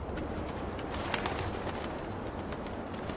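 Birds coo and call in the Gothic 1 Remake video game, a soft cooing woven through a steady ambient hiss with faint clicks, without speech.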